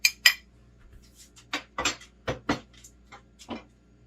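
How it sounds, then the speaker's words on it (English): A metal spoon stirs a pot of chilli with chunky vegetables and mushroom, giving a series of sharp, close clinks and scrapes against the pot at an uneven pace, with quiet gaps between strokes. "Give this one a stir."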